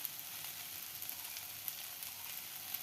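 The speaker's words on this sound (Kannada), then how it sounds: "ನೀಟಾಗಿ ಫ್ರೈ ಮಾಡ್ಕೊಳ್ಳಿ." Capsicum curry seasoned with chilli powder fries in a pan, giving off a steady, even sizzle with faint crackles and no voices.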